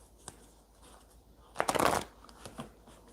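Tarot cards shuffled on top of another stack, a quiet soft riffle burst near the middle with a few faint taps before and after, otherwise near silence.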